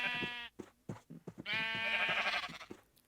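Several sheep bleat in Minecraft with wavering, nasal calls, one long bleat then short broken ones and another drawn-out cry, close and clear with no talking.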